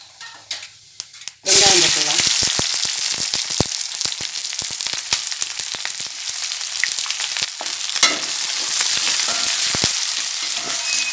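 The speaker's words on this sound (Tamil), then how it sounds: "பட்டை கிராம்பு ஏலக்காய் பொறிஞ்சிடுச்சு" Cinnamon, cloves and cardamom hit hot oil with a sudden loud sizzle, then keep frying in a steady crackling hiss dotted with sharp pops and spoon stirs, close and continuous.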